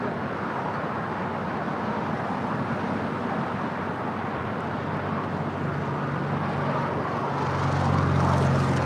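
A Delta airliner at LAX, a steady broad jet rumble close by that grows slightly louder toward the end, with traffic noise in the background.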